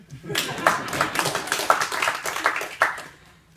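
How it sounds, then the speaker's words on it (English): Audience members clap for a colleague during a presentation on networking and Slack use, a light, uneven patter of hands with a few sharper individual claps rising and fading over a few seconds. "A little applause for Sammy"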